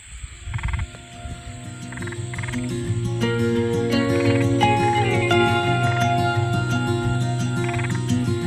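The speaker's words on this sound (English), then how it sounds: "You hear those frogs, they're pretty happy with the rain too." A loud, dense chorus of frogs croaking after rain, steady and continuous, with rapid pulsing calls layered over one another and building in intensity.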